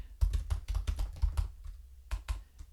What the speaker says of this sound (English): I can't talk and type at the same time, so I'm just going to type this one in